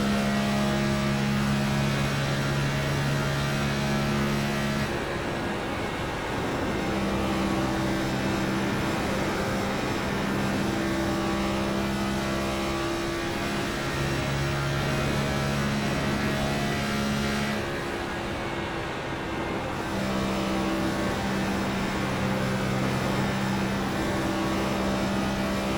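A Next Gen stock car engine drones through a hot lap at Kansas in the iRacing simulator, a loud unbroken roar whose pitch shifts as it changes gears and speed, with no talking.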